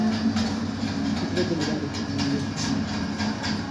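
Continuous rolling hum with faint rhythmic clicking of a miniature electric train drawing power through a pantograph, running on track at a miniature railway museum in Pune, India, steady and close, with a voice murmuring underneath.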